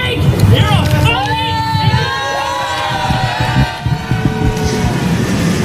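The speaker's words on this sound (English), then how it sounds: "you could hear the crowd obviously was not pleased with what he was saying" An angry crowd at a street rally shouts and jeers over a Christian preacher, loud overlapping yells and voices rising and falling close by, with individual shouted words cutting through the din.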